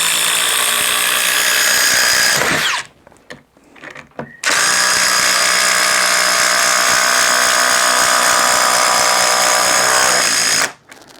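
Ryobi HP and Ridgid impact drivers run side by side driving screws, a loud continuous hammering whine that stops briefly near the middle with a few knocks and then resumes at full strength until just before the end.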